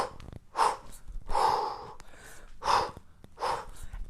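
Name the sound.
three sharp exhales of kettlebell sport breathing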